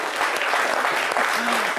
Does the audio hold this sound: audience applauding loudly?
yes